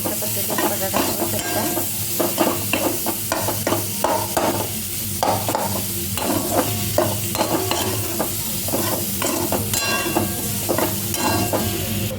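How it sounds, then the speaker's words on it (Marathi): Potatoes for potato bhaji are stirred and sautéed in a pan. A spoon scrapes and knocks in repeated strokes over a constant close sizzle, with no one speaking. "अशा पद्धतीने व्यवस्थित बटाटा हलवून घ्यायचा आहे आणि छान परतून घ्यायच्यामध्ये कोथिंबीर टाकायची आहे"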